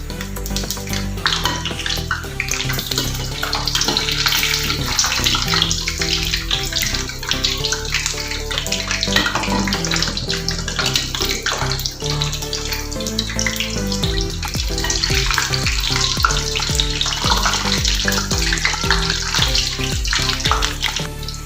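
Potato donuts fry in hot oil, a steady, close hiss and crackle of sizzling that continues unbroken throughout.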